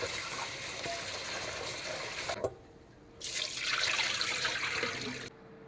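Deveined shrimp rinsed under a running kitchen faucet, with a steady close stream of water that breaks off briefly, resumes for a few seconds, then stops.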